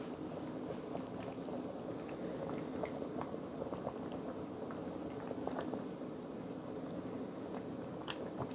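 Rice vermicelli boils in a pot of water on the stove, giving a steady, even bubbling and simmering hiss with small pops throughout, close and alone with no voices.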